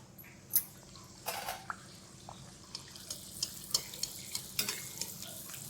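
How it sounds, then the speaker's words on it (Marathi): Anarse sweets frying in hot oil, a quiet bubbling sizzle broken by a series of small sharp clicks and splashes as oil is spooned over them. "आता मी तळून घेते"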